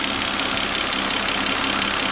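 A Volvo XC90 engine runs steadily at idle, a close, loud and even mechanical hum with a faint rhythmic knock and no voices.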